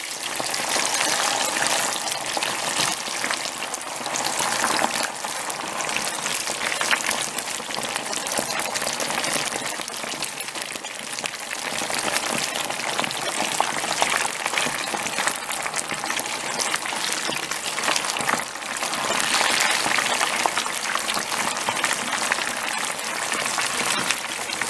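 French fries, cut from canned potatoes and cooked a few at a time, sizzle and bubble in hot oil with a dense, continuous crackling hiss that stays loud and close throughout, with no talking.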